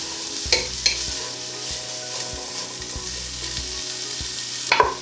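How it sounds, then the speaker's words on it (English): Chopped vegetables for chilli con lentil sizzling and softening in a pan, a steady close frying hiss with a few sharp stirring clinks and scrapes near the start and end. "So that all needs to be sautéed just for a further sort of 2 or 3 minutes."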